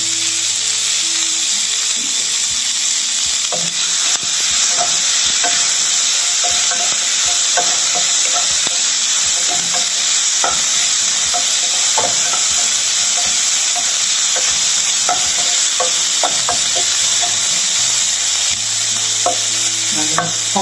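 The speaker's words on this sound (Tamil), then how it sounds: "தக்காளி வெங்காயம் நல்லா வதங்கியாச்சு." Tomatoes and onions sauté in a pan for a ridge gourd and peanut dish, a continuous close sizzle and hiss with repeated clinks and scrapes of a spoon stirring throughout.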